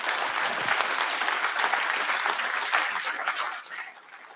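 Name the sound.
audience applause for panelists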